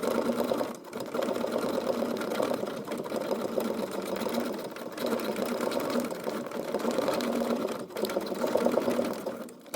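A sewing machine runs steadily while stitching thread sketch lines over drawn marks, a close rapid mechanical whir and needle chatter with a few brief stops and restarts.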